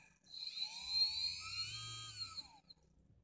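Electric RC plane motor driven by a 40A ESC winds up from rest, a rising high-pitched whine that climbs, holds and then fades, close and fairly faint, with no talk.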